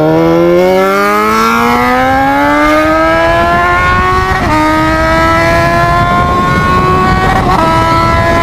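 A motorcycle revving hard on a street outside college gates, its engine note climbing steadily in a loud, close, sustained whine, with a couple of brief shifts in pitch and no talk over it.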